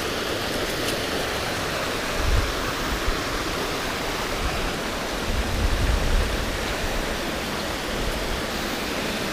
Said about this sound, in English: I'm hoping this river that we're following, you can hear it now in the background.